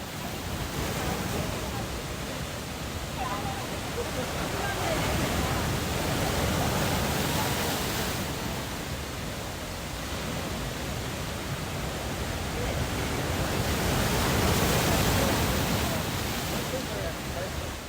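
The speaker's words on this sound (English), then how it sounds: "I have audio of waves crashing on Jeju Island, an island in the southern part of South Korea" Waves break continuously on the shore of Jeju Island, an island in southern South Korea, a steady broadband wash of surf that swells and recedes slowly, fairly loud and close, with no voices.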